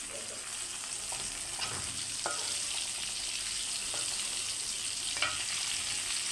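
Fish roe going into sizzling spice masala in a pan for a boal fish curry, a continuous close frying hiss with a few sharp clinks and scrapes of a utensil, steady and fairly loud, no talking.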